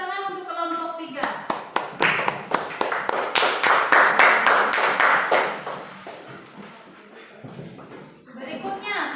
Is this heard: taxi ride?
no